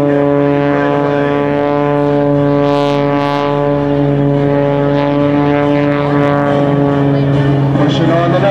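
An MX-2 aerobatic airplane performing rolls at the Great New England Airshow, its engine and propeller producing a loud, continuous droning roar with strong steady harmonics that shift slightly in pitch as it maneuvers.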